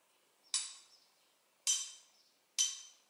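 A glass bottle is struck three times, flicked and tapped with a drumstick. Each hit is a bright, quiet clink that rings and decays briefly, with short pauses between hits.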